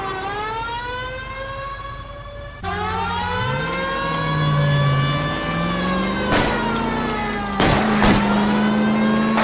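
A car engine revs and surges during a chase in the video game L.A. Noire, its pitch rising and falling under a loud wailing siren, with sharp bursts near the end.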